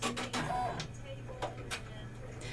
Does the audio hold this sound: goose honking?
no